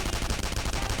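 Rapid gunfire attack in a Persona 5 battle, a dense burst of close, loud shots in fast succession over about a second.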